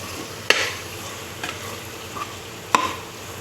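Biryani masala is stirred in a sizzling pan. A spoon scrapes sharply three times over a continuous low frying hiss, close up, with no voices.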